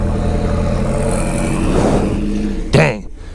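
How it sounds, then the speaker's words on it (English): A loud Audi R8 with an aftermarket exhaust rumbles steadily, then gives a sharp, loud blip near the end, while people talk nearby. "I heard this car is really loud."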